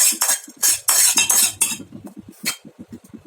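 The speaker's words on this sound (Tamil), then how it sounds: "இப்போ நம்ம வந்து தாளித்து வச்சுருக்கிறத அதில் சேர்த்து விட்டுடலாம்." A tempering of cumin and mustard seeds goes into hot rasam with a few sharp sizzling hisses. A metal spoon then clinks and scrapes against the pot in quick, uneven stirring taps, close by and with no talk.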